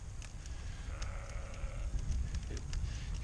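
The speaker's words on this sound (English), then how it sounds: "sheep." Sheep bleating in the French countryside near Limoges, a drawn-out bleat and a shorter call, moderately distant over a steady rumbling background, with no talk.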